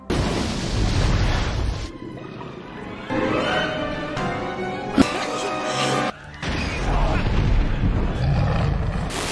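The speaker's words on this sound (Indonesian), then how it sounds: "Alan pun langsung menembakkan pistol suarnya ke Spinosaurus yang bereaksi dengan bensin di sungai." Loud rumbling blasts and crashing noise come in bursts with brief quieter gaps, as a flare gun ignites gasoline on a river around a Spinosaurus.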